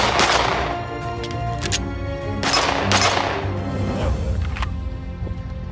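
Rapid pistol shots from a stainless steel Glock-compatible frame, the Aeonic Arms Alpha Comp, ring out outdoors in a few sharp broadband bursts spread across several seconds, loud and close.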